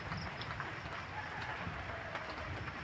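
Rain falls steadily as a soft, even hiss with scattered drop taps, fairly faint and heard alone without speech.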